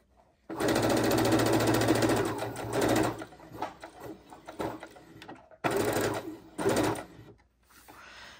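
A sewing machine stitches fabric for a scrappy patchwork heart pillow, running in loud steady bursts that stop and restart with brief pauses for pivoting.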